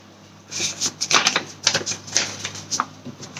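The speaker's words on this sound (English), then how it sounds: "the good way to make a piece of paper smaller is to cut it into half" Scissors snip through a sheet of paper to halve it, a close run of sharp, uneven crisp cuts and rustles with brief pauses between strokes.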